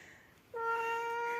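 A cat gives one clear, sustained meow, starting after a quiet moment and holding steady to the end, fairly close and alone.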